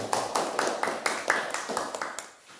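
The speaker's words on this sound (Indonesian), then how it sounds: "Tepuk tangan untuk semua kelompok ya." A school class applauds its student groups, with sharp, fairly sparse claps at a steady rhythm from a modest group in a room, fading out near the end.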